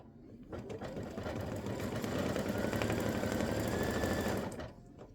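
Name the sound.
embroidery machine stitching a turkey design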